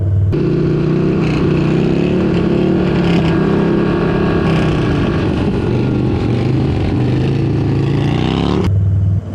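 Stunt motorcycle fitted with a Fueling 525 cam revving hard, a loud, continuous engine roar that holds steady across the throttle before cutting off abruptly near the end, with no voices.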